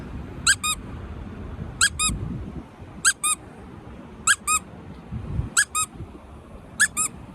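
Six short, evenly spaced high squeaks mark out six bell strikes at City Island in the Bronx, New York, each one bright and distinct over a low background rumble.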